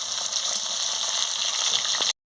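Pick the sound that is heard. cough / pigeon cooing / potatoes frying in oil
potatoes frying in oil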